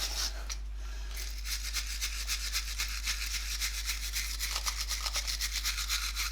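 Wire brush scrubbing a brake caliper on a Renault Clio Mk3, a close, steady scratchy rasping in quick repeated strokes, faint and alone with a low hum underneath.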